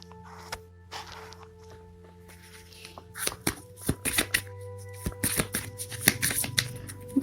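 Tarot cards are shuffled by hand in bursts, with a quiet stretch and then rapid riffling and slapping that grows louder and denser toward the end, close up with no talk.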